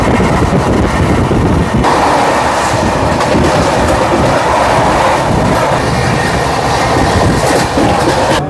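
The 22897 Howrah–Digha Kandari Express runs at speed, heard as a loud, steady close-up roar with rhythmic wheel clatter on the rails; no voices.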